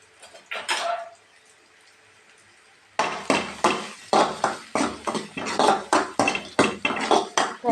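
Onion and red chilies are stirred in a pan for a keerai poriyal, a brief clank, then quiet, then a steady run of rhythmic scraping and clinking strokes, close and fairly loud, with no talk.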